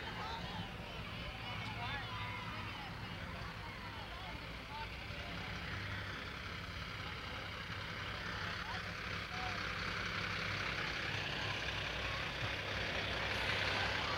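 A fire truck idles in a small-town homecoming parade, its low, steady engine rumble running throughout at moderate distance while an announcer speaks over a public address system and outdoor crowd noise hums.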